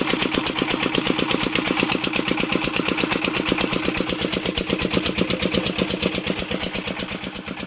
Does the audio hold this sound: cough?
no